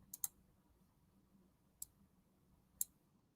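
Keys clicking on a computer keyboard placed close to the microphone during a live stream. Four sharp, isolated taps stand out over a quiet room hum: a quick pair, then two single clicks spaced about a second apart.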